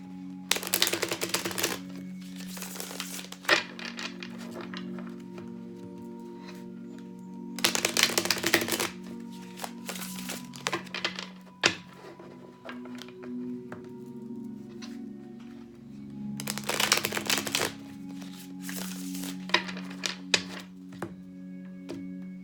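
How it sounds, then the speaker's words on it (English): Tarot cards being shuffled in three bursts of riffling, crisp papery flutters that stand out against a quiet room with a low steady hum in between. "I'm going to do a couple of shuffles here."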